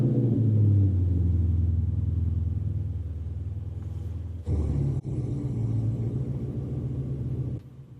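A Mopar car's engine rumbles at a loud, steady idle in the early morning before a bracket-racing day at Southern Plains Mopar Fest, with a brief rise in level partway through.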